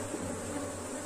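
Honey bees from the forager force crowd a wooden hive box, producing a steady, dense buzzing drone that fills the whole moment without pause, close and even.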